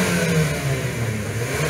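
Engine of a 2020 Nissan Livina 1.5L car revving steadily up close, a continuous mid-pitched drone holding for under two seconds with no voices.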